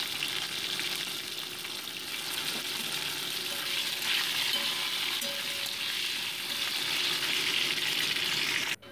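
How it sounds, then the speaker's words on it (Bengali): Cut potato pieces fry in hot oil tempered with black cumin seeds, a dense, even sizzle close by with faint stirring, continuing steadily without speech before cutting off abruptly at the end. "তারপরেই অ্যাড করে দিচ্ছি কেটে রাখা আলুর টুকরোগুলো, দিয়ে মোটামুটি এটাকে 2 মিনিট ভালো করে ভেজে নিচ্ছি।"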